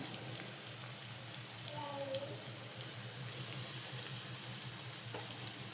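Vegetables with added carrot sauté in a pan with a steady sizzling hiss that swells louder midway, along with a few soft stirring scrapes and a brief muffled voice-like murmur.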